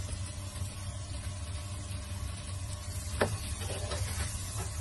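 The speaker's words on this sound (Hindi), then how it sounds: "अब इसको मैं भून रही हूँ" Chicken mixed with vegetables and tomatoes frying in a pan, a steady low sizzle and stirring hiss throughout, with a brief scrape of a utensil partway through, fairly quiet and with no talk.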